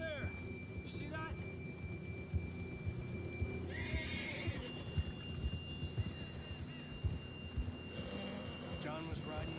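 A horse whinnies and its hooves clip-clop in the video game Red Dead Redemption 2, heard amid game ambience with a voice talking.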